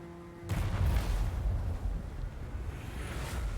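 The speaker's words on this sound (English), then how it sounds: "Powerful explosion, effective at long range." A blue fire spell explosion in Warhammer 2: Total War hits with a sudden booming onset, then a sustained rumbling roar that slowly fades over several seconds, with no voices.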